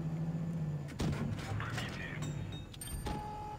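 T-34 tank in World of Tanks Blitz firing its gun: a sharp booming shot about a second in over a low engine rumble, followed by clanking mechanical and impact sounds, moderately loud.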